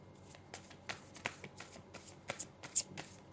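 Tarot cards being shuffled in a quiet room, a run of soft riffling flutters and light slaps repeating at an uneven pace, close and fairly faint.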